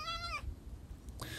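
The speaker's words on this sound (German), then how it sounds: "Tja, Fuchs, heul nicht so lange." A fox in the survival game The Infected gives high, drawn-out whines: one wavering cry at the start, a pause of low background, then another cry beginning at the end.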